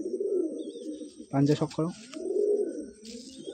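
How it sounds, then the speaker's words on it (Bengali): An old Madras pigeon coos in low, rolling phrases, close and clear, while someone talks over it briefly in the middle. "এটা কলকাতার পুরনো ম্যাড্রাস পায়রা"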